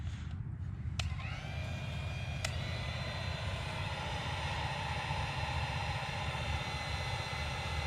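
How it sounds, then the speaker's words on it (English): A large heat gun blows steadily and loudly at close range, warming a plastic Snowdog chain guard, a continuous broadband roar with a couple of faint clicks near the start. "we got our bazooka heat gun, and we have this piece. What we're going to do is heat these up"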